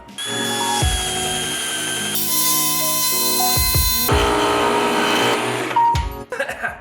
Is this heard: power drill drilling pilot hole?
yes